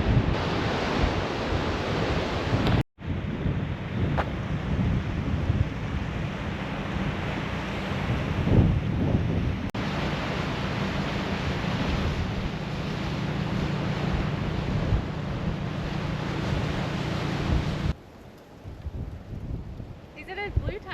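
Steady coastal wind roars across the microphone on the Eyre Peninsula shore, with surf-like rushing throughout, a brief cut near the start and a quieter patch at the end.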